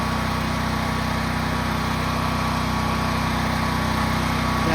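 A Westinghouse 12,500W portable generator runs steadily nearby after a slightly rough start, giving a constant loud engine drone with an even mechanical buzz and no talking.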